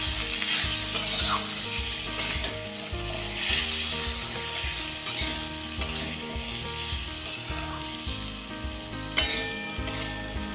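Ground cumin and coriander stirred and fried in a pan for a drumstick curry, a steady loud sizzle with repeated scraping strokes of a spoon against the pan, no voices.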